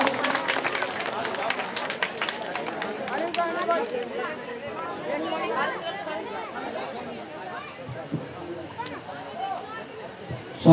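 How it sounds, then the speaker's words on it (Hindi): Audience at a live Krishna Lila devotional gathering breaks into clapping, strongest at the start, then thinning into crowd chatter and hubbub as the applause fades over about ten seconds. "एक बार जोरदार तालियां बजाएंगे सभी लोग"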